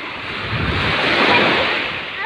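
Steady surf rolls and hisses onto the shore at Nagtabon Beach, a broad continuous wash of breaking waves mixed with some wind noise.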